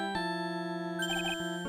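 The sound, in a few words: phone ringtone in the Ace Attorney video game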